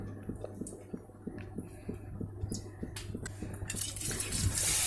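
Water trickles and splashes in a steady, close stream, with small rhythmic drips and splashes as liquid is pressed out, building slightly toward the end.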